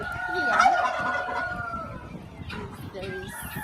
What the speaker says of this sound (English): And the turkeys.